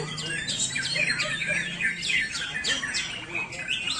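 A caged murai (magpie robin) chirps and whistles in rapid, bright bursts of varied song, close and fairly clear over a low background hum.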